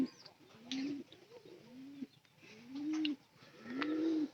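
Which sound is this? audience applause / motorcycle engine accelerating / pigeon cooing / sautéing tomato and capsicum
pigeon cooing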